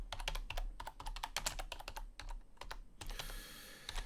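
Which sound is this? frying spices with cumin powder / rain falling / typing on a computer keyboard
typing on a computer keyboard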